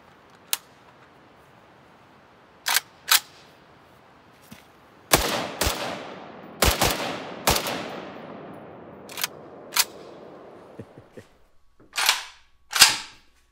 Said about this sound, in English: you got to fire it like an insurgent